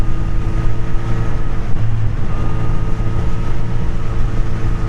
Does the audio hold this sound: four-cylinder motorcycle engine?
yes